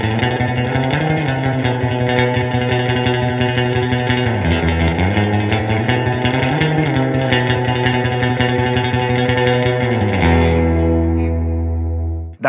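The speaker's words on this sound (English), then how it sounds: "that guitar into that amp with that reverb gets me to that sound." A surf-style electric guitar plays Misirlou through an amplifier with spring reverb, a rapid tremolo-picked melody drenched in wet, splashy echo that slides down and back up before ending on a ringing sustained chord.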